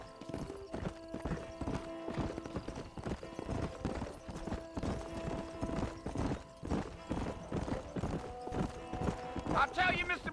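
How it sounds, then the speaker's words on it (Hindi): Horse hooves clip-clop at a steady gallop in the Red Dead Redemption video game, continuous and close throughout, with a horse whinny near the end and people talking over the hoofbeats. "दौड़ा ना अपना घोड़ा."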